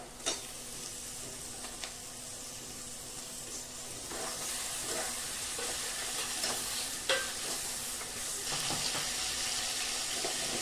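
Chopped tomatoes added to softened onions fry in a pan, a continuous hissing sizzle with occasional scraping stirs and small clicks of the spatula throughout.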